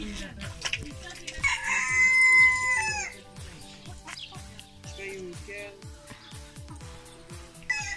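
Backyard chickens and hens clucking, with a rooster crowing loudly in the early part, then repeated clucks and chirps continuing close by under a person talking.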